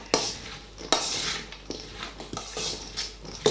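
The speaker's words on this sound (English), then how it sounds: "Give it all a good mix around." Slaw with chopped spring onions being tossed and mixed in a bowl, producing repeated clinks and scraping rustles in an irregular rhythm, close and moderately loud with no talking.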